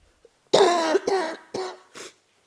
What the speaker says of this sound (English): joking makes me cough